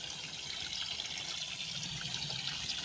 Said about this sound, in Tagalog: So, dire-diretso ang agos ng tubig.